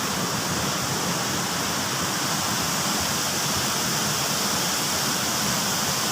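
A river rushing at a twin waterfall in Bangun Rejo, Solok Selatan, West Sumatra, with a loud, steady, unbroken roar of falling and flowing water close by, no talking.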